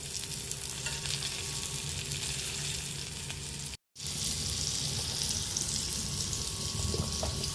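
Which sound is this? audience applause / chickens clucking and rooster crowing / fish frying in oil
fish frying in oil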